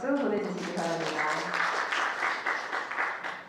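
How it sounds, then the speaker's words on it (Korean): An audience at a youth smoking-prevention club presentation contest claps in thanks for a middle school principal, steady applause that follows a speaking voice at the start and then continues on its own. "반송여자중학교 신정숙 교장 선생님께 한 번 더 감사의 박수 보내주시기 바랍니다."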